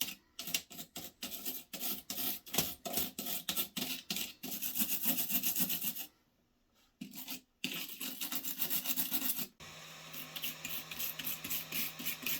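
Someone scrubs dusty PlayStation 3 parts with isopropyl alcohol, making close, rhythmic rasping strokes in quick bursts, with a short pause and a brief break before the scrubbing resumes.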